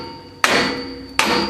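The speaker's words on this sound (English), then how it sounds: "You're gonna need BFH or some sort of hammer. You're gonna hit it right there so you can pop these." A hammer strikes the ball joint on a 2004 Ford Explorer 4.0L during an upper control arm replacement: two loud, sharp metallic blows about three quarters of a second apart, each ringing briefly.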